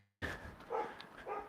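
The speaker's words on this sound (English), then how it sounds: "Oh no, the dog is here." A dog barks a few times up close, sharp and fairly loud, with short gaps between the barks and no other sound around them.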